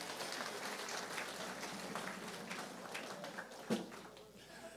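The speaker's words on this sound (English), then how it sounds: "A round of applause, please." Crowd applause at a premier's New Year gala evening, a steady moderate wash of clapping with voices mixed in, heard from some distance.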